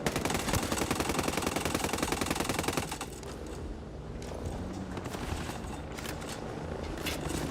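Rapid automatic AK-74 assault rifle fire in a video game, a dense loud rattling burst for about three seconds followed by quieter scattered shots and background action.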